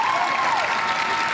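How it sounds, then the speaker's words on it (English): Crowd applauding and cheering at a boccia final, with a steady wash of clapping and a raised voice rising above it, sustained and fairly loud throughout. "And shakes his head as stepmom Alison leads the cheering with the Scottish saltire behind her."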